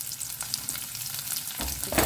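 Lengthwise-sliced onions frying with curry leaves in a hot pan and being stirred, a steady close sizzle with scraping stirs and a louder burst near the end; no talking.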